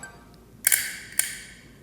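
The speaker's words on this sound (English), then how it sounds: "that is a totally different leaf shutter than what we heard in the XCD 45P" The leaf shutter of a Hasselblad X2D II camera with an XCD lens fires in two crisp, close clicks about half a second apart, each a quick double snap, in an otherwise quiet room.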